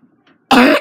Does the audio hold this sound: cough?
yes